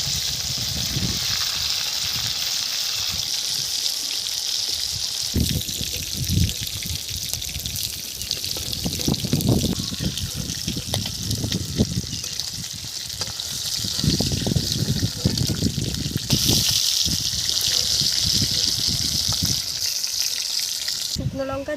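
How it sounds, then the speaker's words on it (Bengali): Large pieces of black carp fish fry in hot oil in a home kitchen pan, giving a steady loud sizzle with bursts of crackling and spatter throughout, alone without talk. "এখন আমি মাছগুলো ছেড়ে দেব।"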